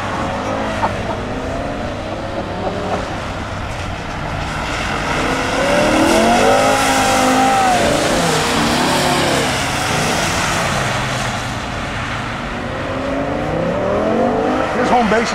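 A race car spins out on lap 4, engines roaring loudly throughout with tire squeal and skidding, the pitch sweeping as the car slides, while voices talk over the racing noise.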